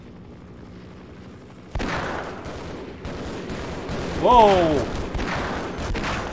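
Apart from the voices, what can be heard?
gunfire in Half-Life video game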